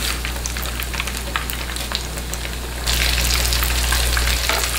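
Chicken pieces sizzling in a frying pan, a steady crackling fry that swells abruptly louder as more meat lands in the hot oil, with no talking.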